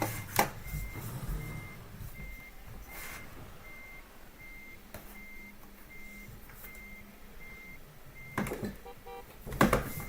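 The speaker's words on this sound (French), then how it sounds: "en marche arrière" Reversing beeps from a truck in Euro Truck Simulator 2 repeat at an even rhythm for most of the stretch. They sound moderately loud over a low engine rumble, with a few sharper knocks and air-brake hisses near the end.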